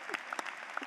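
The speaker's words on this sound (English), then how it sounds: "Clapping's good. We'll take it." Audience applause during a college commencement ceremony, distant and faint steady clapping with scattered sharper individual claps and a few brief voices mixed in.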